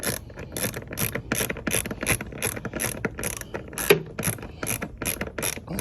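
Socket wrench ratcheting on a Cadillac DTS during an air filter replacement, with a steady rhythmic run of crisp clicking strokes, close and fairly loud.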